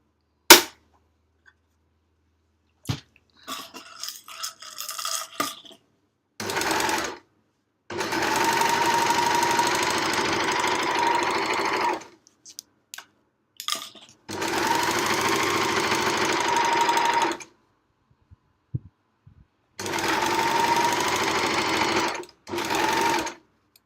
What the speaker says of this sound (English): I'm going to actually overlock over the tail, and that's going to secure that end.